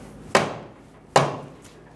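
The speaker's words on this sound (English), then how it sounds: "If it does not, use a soft face hammer and hit it." Two solid, dull soft-face hammer blows on the front axle inside the wheel hub of a 2011-2014 Hyundai Sonata, about a second apart, close and resonant, followed by a fainter third tap.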